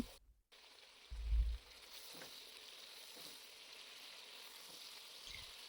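Eggplant and potato pieces frying in a generous amount of hot oil on a stove, giving a faint, steady sizzling hiss with a brief low thump near the start.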